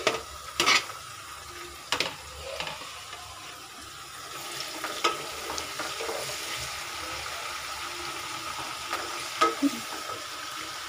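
Beans and carrots simmer in a covered pan, giving a low, steady sizzle broken by a few sharp clinks and clatters of the lid or utensils.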